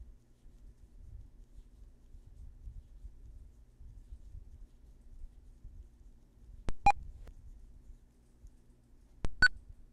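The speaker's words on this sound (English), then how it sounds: "Here are progress beeps, which are good." An NVDA screen reader sounds two short progress beeps during a software install, isolated tones a few seconds apart over faint low background hum.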